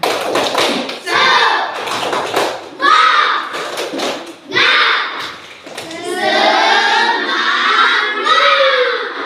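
Schoolchildren in a classroom perform a rhythmic spirit clap, bursts of patterned clapping and taps mixed with excited kids' voices and shouting, fairly loud and close throughout.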